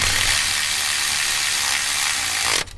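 A ratchet wrench tightens bracket bolts on an Infiniti G35 at the roadside, a steady close buzzing clicking run that stops abruptly near the end.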